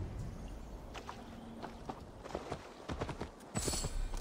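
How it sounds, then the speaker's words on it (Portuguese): A horse in Assassin's Creed Valhalla walks with a steady clip-clop of hooves, mid-distance and moderately loud, over a faint ambient bed with no talk. "Tá descendo o cavalo sozinho."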